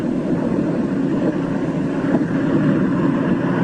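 A constant loud drone from a failing aircraft engine as a plane loses power over the Antarctic ice during the 1948 Operation High Jump expedition, a rough, steady roar with no talk over it.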